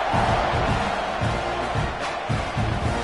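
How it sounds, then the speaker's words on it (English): A stadium crowd at an Ohio State football game roars in a steady, loud wash of cheering with a few rising swells, after a kickoff unit takes the field. "this crowd is feeling themselves after that last drive"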